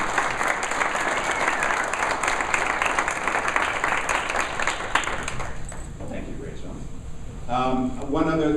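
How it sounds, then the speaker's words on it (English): A lecture audience gives a dense round of applause for an organizer, loud and sustained before thinning out, after which a person begins speaking near the microphone. "So applause for Rachel."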